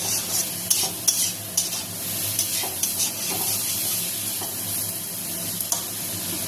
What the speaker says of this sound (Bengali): এখন দেখো বেগুনগুলি দিয়েছি, এখন কষিয়ে নেব